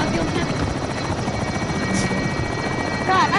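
A helicopter in the video game Call of Duty drones loudly and steadily with rotor chop throughout, a constant close engine roar.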